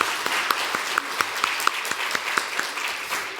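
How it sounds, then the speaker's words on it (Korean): A church congregation applauds during a baptism and confirmation service, a steady patter of many hands clapping with rhythmic accents, filling the room for the whole moment. "우리 박수로 환영하겠습니다."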